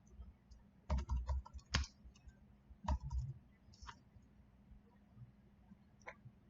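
Bursts of computer keyboard typing, clustered keystroke clicks in short runs with pauses between, close and fairly quiet, alone with no talk.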